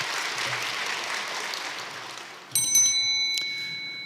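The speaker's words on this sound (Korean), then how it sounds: "수고하신 분들을 위해서 격려의 박수를 보내주시기 바라겠습니다" A church congregation at a Korean Thursday worship service claps in steady, moderately loud applause that fades toward the end, while bright bell-like tones ring over the last part.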